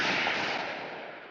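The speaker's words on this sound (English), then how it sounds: "After the gunshot, we heard panting and a ragged, frail voice." A single gunshot from the visual novel Chaos;Head Noah lands as a loud broadband blast at the very start, then fades into a long, noisy reverberant tail lasting over a second with no voices.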